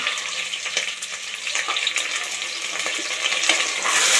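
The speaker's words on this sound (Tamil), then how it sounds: "நல்லா மிக்ஸ் ஆகிற அளவுக்கு கிண்டி வச்சுக்கோங்க" Vegetable biryani mixture with potatoes and green peas frying and being stirred in a pan, a continuous close hiss of sizzling with soft scraping strokes and no voices.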